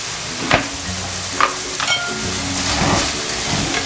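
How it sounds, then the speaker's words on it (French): Chicken and other ingredients for Creole chicken are stirred in a frying pan: a constant close sizzle broken by several sharp scraping utensil strokes, spaced irregularly, with no talking. "Je mélange bien de telle façon que tous ces ingrédients se mélangent bien avec comment dirais-je, la viande."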